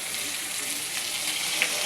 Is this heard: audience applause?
no